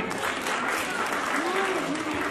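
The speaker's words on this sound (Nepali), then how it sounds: "एकचोटि जोरदार ताली बजाइदिनु होला।" A large crowd claps loudly and continuously in a dense, even wash of applause, with voices faintly audible beneath it.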